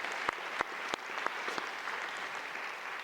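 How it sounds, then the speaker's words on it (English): Applause from a conference audience honoring nurse researchers at a hall of fame session, a steady soft wash of clapping heard from a distance, with a few sharper, closer claps standing out at the start. "how about a round of applause for this amazing group of nurse researchers?"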